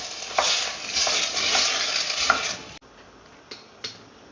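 Lamb caldereta with tomato and coconut milk being stirred in a pot, a steady scraping and sizzling swirl for nearly three seconds, then quieter simmering broken by two sharp utensil knocks against the pan, close and fairly loud, with no talking.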